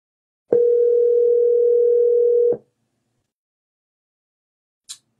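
A single steady ringback tone on an outgoing telephone call sounds alone for about two seconds, then stops, followed after a pause by a brief faint click.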